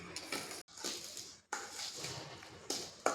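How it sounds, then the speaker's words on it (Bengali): Spoon clinking against a bowl while mixing food soda into wheat flour (atta) for gulab jamun dough: repeated scraping and light metallic taps in uneven bursts, close by, broken by two short pauses. "এবার খুব ভালোভাবে আটার সঙ্গে মিশিয়ে নেব"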